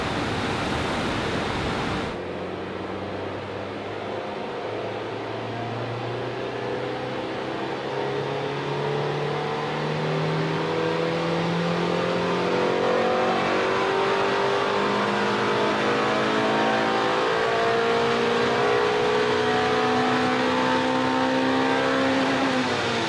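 Honda Civic VTi engine strapped to a dynamometer revs up through a long sustained pull, its pitch climbing steadily and loudly after a brief opening burst, with no talking.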